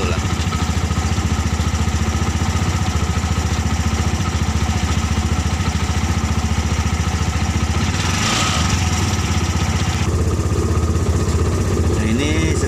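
A motorcycle engine fitted in a car idles steadily with a low, even rumble throughout, with a brief burst of higher hiss partway through.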